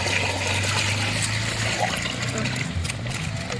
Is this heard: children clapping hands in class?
no